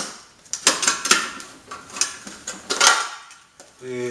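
Metal mess kit pots and cutlery being handled and rattled together, a series of light clinks, scrapes and knocks at close range, irregular and fairly quiet.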